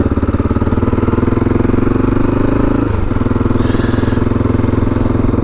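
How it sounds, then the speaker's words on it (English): A 1996 Aprilia Pegaso 650 motorcycle engine runs steadily and loudly up close, a throaty pulsing drone that dips briefly mid-way as the rider shifts, then carries on. "It's a motorbike."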